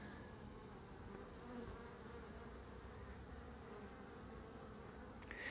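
Robber bees swarm and buzz at the entrance hole of a beehive, trying to force their way in; a steady, dense hum of many insects continues throughout, close and unbroken.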